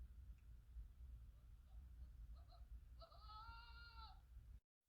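Sheep bleat in Morocco as a flock is brought in, a few faint calls followed by one clear, wavering bleat close by, over a quiet low rumble of the outdoor setting.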